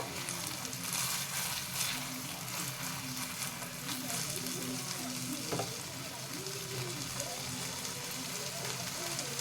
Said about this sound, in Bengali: এবার সবগুলোকে আমি নাড়াচাড়া করে নেব, চালটা একটু ভালো করে ভেজে নেব।